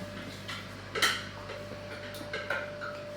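A home oven is set for baking a chocolate cake, its timer dial giving faint, sparse mechanical ticks and a couple of sharper clicks over a steady low hum.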